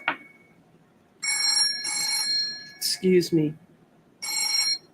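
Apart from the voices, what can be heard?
old-fashioned British telephone ringing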